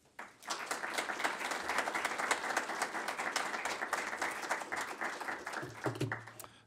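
An audience applauds at a university lecture, a dense, steady burst of many hands clapping that starts abruptly, holds evenly for about six seconds and then tapers off.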